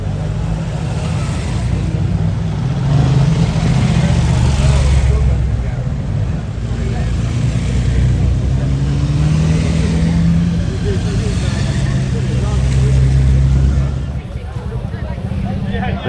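A six-cylinder motorcycle engine runs nearby at a bike night, its loud throaty drone swelling through repeated revs before easing off near the end, with people talking over it.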